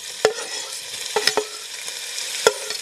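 Diced medium yellow onion sizzles in extra virgin olive oil, a steady crackle punctuated by several sharp scrapes and clicks of a utensil stirring against the pan.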